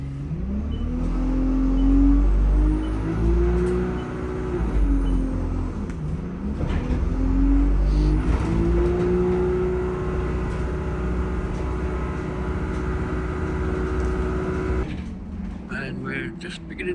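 A bus carries passengers toward a ferry terminal at night, its engine droning steadily with rising and falling gear whines and road rumble throughout, a brief clatter near the end.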